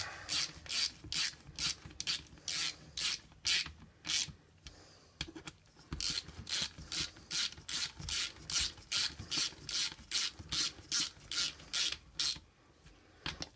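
A ratchet snugs bolts on a Hurth HWB-10 marine transmission during reassembly, making rapid rhythmic clicking bursts in repeated close strokes with a brief pause midway, no talking.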